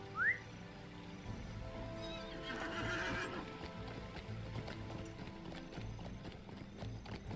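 A horse in the Lord of the Rings Online video game gives a sharp neigh near the start, then steady hoof clip-clops carry on through the rest over a continuous game music and ambience bed.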